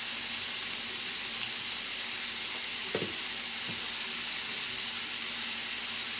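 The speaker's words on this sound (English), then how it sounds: "We're just searing it." Beef tips sear in a hot pan with a steady, even sizzle and hiss throughout, joined by a couple of brief soft clinks partway through and no voices.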